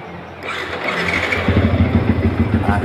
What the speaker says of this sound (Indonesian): coba kita hidupin dulu ya motornya